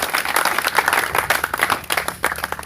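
A church congregation claps during a pastors' conference session, a dense, uneven patter of hands that rises and dips steadily, fairly close and full, with no voices standing out over it.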